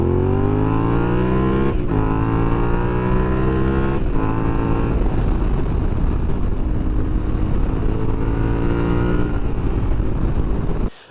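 Yamaha Tenere 700 motorcycle fitted with a Yoshimura exhaust, its engine loud and close as it revs up and pulls through several gear changes, the pitch climbing and dropping with each shift, steady and continuous with no talking.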